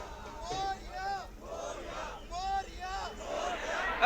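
Crowd cheering and chanting at a Ganpati immersion procession at the Lalbaugcha Raja mandal, repeated rising group shouts in waves at moderate distance, with some babble.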